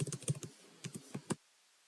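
Quick bursts of keystrokes on a computer keyboard while entering a short line of Python code, a rapid cluster of taps, a pause, then a few more clicks ending on a firmer key press, close and fairly quiet.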